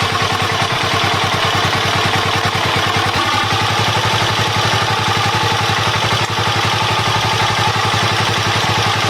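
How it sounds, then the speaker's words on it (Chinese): A motorcycle engine runs at a steady raised idle after a carburetor adjustment, a close, even, rapid putter with a light mechanical clatter, continuous and alone. "调节过后，这个发动机就运行得很平稳，很顺利。"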